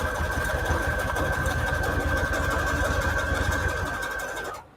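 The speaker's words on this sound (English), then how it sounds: "we're going to sew it down the middle, just with the zigzags" Sewing machine stitching a zigzag line down scrap paper, a fast steady mechanical chatter at close range that runs continuously, then stops abruptly at the end.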